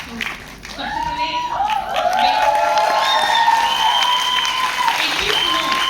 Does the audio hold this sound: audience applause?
yes